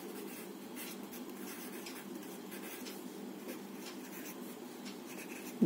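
A pencil writing on paper in a classroom makes a faint, continuous scratching that stays quiet and even throughout.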